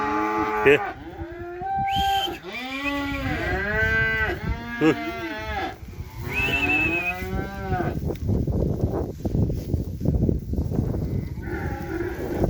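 Repeated loud cattle moos, several overlapping low bellows one after another, followed by a rougher, noisier stretch of lowing and shuffling.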